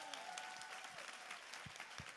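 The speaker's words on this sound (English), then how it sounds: "Could we give her a giant round of applause?" Conference audience at Tom Ferry's NU You RECON 2021 keynote applauding for a woman two months into the real estate business, dense sustained clapping from a large crowd with a few sharp closer claps standing out.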